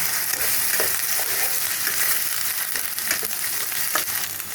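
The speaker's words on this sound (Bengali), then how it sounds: "সেই নারকেল বাটাটা দিয়ে দেবো, দিয়ে একটু ভাজা ভাজা মতো করে নেব" Steady, loud sizzling of paste frying in a hot pan, with occasional scraping stirs breaking through the continuous crackle.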